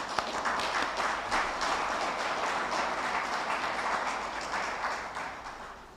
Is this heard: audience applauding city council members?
yes